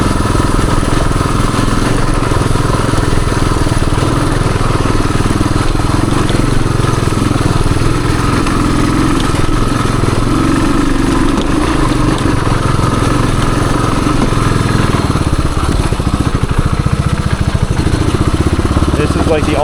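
A 1978 Suzuki DR370 motorcycle idles along a wooded trail in third gear, its low engine rumble loud and steady throughout with wind and trail noise, while a rider talks over it.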